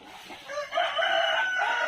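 Black Australorp chickens in a pen, a close clucking call rising into a short crow-like cry, loud and alone.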